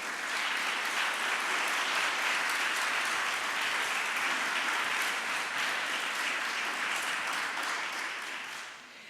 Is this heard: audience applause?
yes